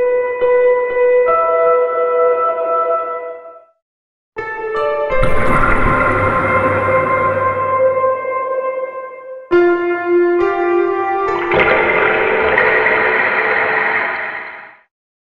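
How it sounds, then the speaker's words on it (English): Water effects from the Impact Soundworks Water Piano sample library: three sustained piano-like tones layered with bubbling, washing water textures, loud and close, each ringing out and fading with a short silence between the first and second. "And then we have the water effects here, which is kind of cool."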